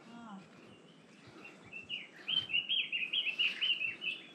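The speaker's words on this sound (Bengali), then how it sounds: "সুন্দর পাখির আওয়াজ।" Birds chirp and sing among hillside tea gardens near Darjeeling, a bright rapid string of repeated calls that grows louder and busier midway, carried over a soft outdoor background.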